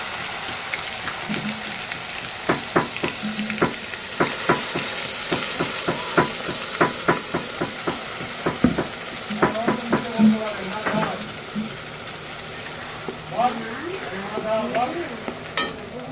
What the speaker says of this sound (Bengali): তো আমি এর মধ্যে দিয়ে দেবো এবার সব পেস্টগুলো। এর মধ্যে আছে আদা, রসুন, পেঁয়াজ, কাঁচা লঙ্কা আর টমেটো